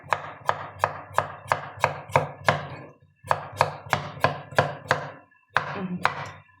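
A knife finely chops dill on a cutting board, with crisp, close, evenly spaced strokes in three quick runs separated by short pauses, and no talk.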